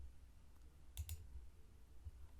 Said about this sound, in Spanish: Clic izquierdo, clic izquierdo, clic izquierdo, clic izquierdo